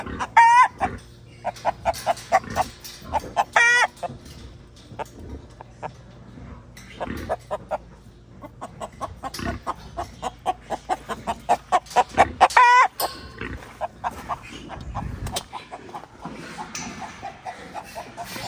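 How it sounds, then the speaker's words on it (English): A rooster crows loudly several times nearby on a farm while hens cluck and squawk around it, with short quiet gaps between the calls. "Move, Rooster."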